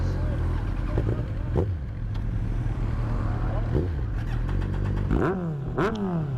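A motorcycle on a group ride revs its engine and exhaust up close, holding a steady rumbling idle broken by several sharp throttle blips, with a rising rev near the end.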